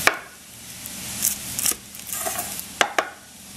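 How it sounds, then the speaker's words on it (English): An onion is cut with a knife while salad is being prepared, giving sparse crisp slicing clicks and a few sharp taps of the blade on the board, up close and quiet, with no voices. "I will cut the onion here."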